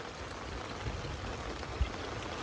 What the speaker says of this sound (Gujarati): બહાર વરસાદ જો કેવો ચાલુ છે